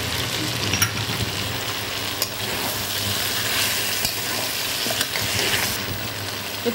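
Pahari chicken sautéing in a pan with a little sugar added, a continuous close sizzle with occasional scraping as it is stirred and no speech.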